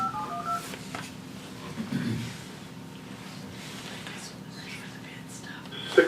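A telephone keypad sends brief dialing tones at the start and a short tone at the end, heard during a commission meeting. Faint murmuring and room noise fill the quiet stretch between them.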